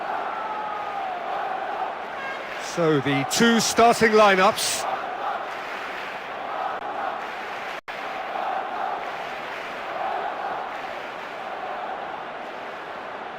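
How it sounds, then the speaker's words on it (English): A stadium crowd in the eFootball 2026 football video game roars in a steady, distant wash of cheering that continues throughout, with a commentator speaking over it briefly. "The crowd wait to offer them a red-hot welcome."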